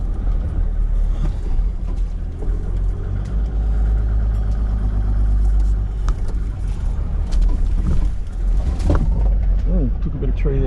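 A Toyota 80 Series 4WD crawls through Wilga State Forest in South West WA in first gear, high range. Its engine makes a steady, close, low drone, with occasional knocks from the bush, faint birdsong and a few bits of talk.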